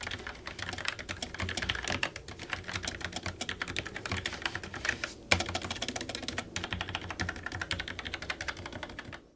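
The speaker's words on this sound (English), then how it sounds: "here's a typing test for you to hear what they sound like" Rapid, continuous typing on a Logitech MX Mechanical Mini keyboard with brown switches, soft, even clacks in quick succession and no talking.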